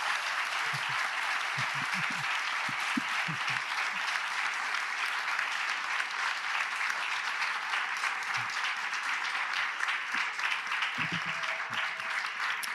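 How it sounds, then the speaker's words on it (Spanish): A lecture audience at a festival book launch applauds steadily for about thirteen seconds, with a dense even clapping wash that sounds moderately distant and has a few scattered low thumps. "les pido que les demos un gran aplauso"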